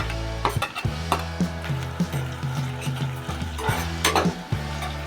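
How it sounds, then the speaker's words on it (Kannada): Onions and crushed green chillies fry in hot oil for a Coorg chicken pepper fry, with a continuous sizzle and repeated scrapes of a spoon stirring against the pan. "ಎಣ್ಣೆಲಿ ಚೆನ್ನಾಗಿ ಫ್ರೈ ಮಾಡ್ಕೊತಾ ಇದ್ದೀನಿ ಈರುಳ್ಳಿ ಇಷ್ಟು ಫ್ರೈ ಆದರೆ ಸಾಕು"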